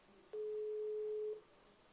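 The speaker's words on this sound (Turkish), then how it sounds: "Telefon çalıyor." A single long telephone ringback tone plays on an outgoing call, a steady clear electronic beep lasting about a second, fairly faint over a quiet background with no speech.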